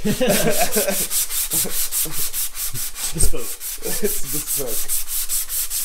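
A guitar neck is hand sanded with 180-grit sandpaper, giving close, rhythmic rasping strokes in a steady back-and-forth pattern. A brief voice is heard.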